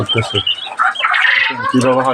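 Aviary birds squawk and call in summer heat, short harsh cries mixed with a man's nearby speech.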